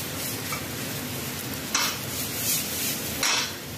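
Pork frying in hot oil in a Korean dubu kimchi dish, a steady close sizzle with bursts of stirring and scraping in the pan, no voices.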